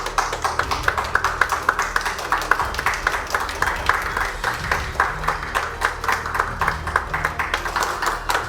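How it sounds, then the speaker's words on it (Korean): Warm clapping at an Information Security Day commemoration ceremony greets a vice minister and award winners gathering for a group photo, a steady patter of many hands running throughout with light background murmur. "따뜻한 박수 부탁드리겠습니다"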